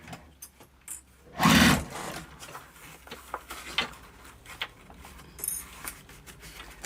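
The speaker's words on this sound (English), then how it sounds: "just sew right along that edge" A sewing machine stitches along the edge of a waterproof canvas zipper pouch in one loud burst of close, buzzing running, followed by quieter handling clicks and taps.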